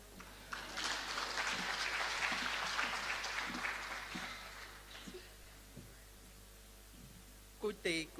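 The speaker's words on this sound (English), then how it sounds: "They want to clap for you." An audience claps at a hairdressing certificate launch at a TVET college. Scattered applause swells and then fades, and a voice speaks briefly near the end.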